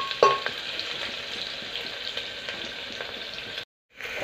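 Onions and curry leaves fry in a pan with a steady, moderate sizzle and a sharp crackle near the start, then briefly cut to silence before the sizzle resumes.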